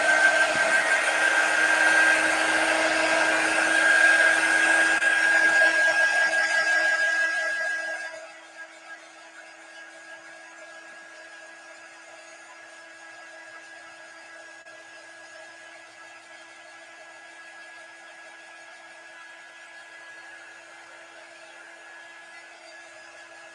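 A small handheld heat tool whirs steadily for about eight seconds as it dries chalk paste on a barn wood sign, then cuts off, leaving a faint hum with a steady tone.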